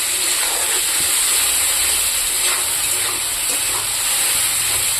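Tomatoes sizzling with spices in a hot pan, a steady loud hiss and crackle of frying that holds without pause throughout.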